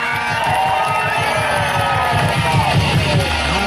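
A large crowd at a public gathering in Meru County, Kenya, cheers and applauds loudly and continuously, with shouts and whoops rising over a steady roar for a few seconds.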